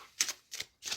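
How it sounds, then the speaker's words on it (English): Tarot cards are shuffled in three quick bursts of crisp riffling, each a short papery flutter separated by brief pauses, close and clear with no talk. "let's start the reading by first shuffling these cards"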